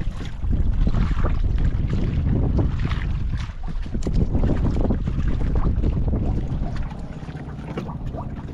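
Gusty sea wind roars steadily over a small fishing boat, a loud broadband rush with churning water beneath that eases slightly toward the end.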